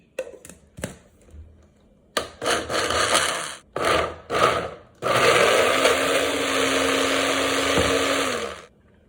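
A blender on low speed processes hummus: a few short pulses and grinding bursts come first, then the motor runs steadily and loudly for several seconds before cutting off abruptly.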